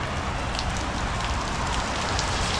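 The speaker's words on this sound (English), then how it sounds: "The rain gonna let up though, cause the sun's still out." Steady rain falls outdoors near a truck being worked on while the sun is still out, a dense even hiss that stays constant with no voices.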